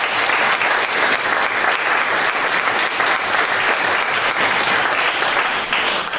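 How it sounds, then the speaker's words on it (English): Loud, sustained applause from an audience cheering community partners at an ACLU Wisconsin annual meeting, thick continuous clapping heard close and full for the whole stretch. "we take a moment for every community partner to raise their hands and give them a round of applause"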